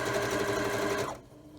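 A sewing machine back stitches fabric for an apron skirt. It runs in a fast, steady mechanical whir close by, then stops abruptly near the end.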